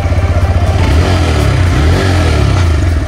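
A TVS Raider 125 motorcycle engine idles loudly and steadily up close after a self-start, a constant throbbing rumble with no voices.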